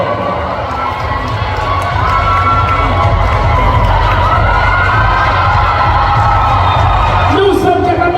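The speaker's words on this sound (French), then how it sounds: "Nous sommes capables de crier plus fort que ça" A large crowd cheers and shouts continuously at a cheerleading competition in Quebec. The noise is loud and dense, with whoops and children's voices mixed into the roar.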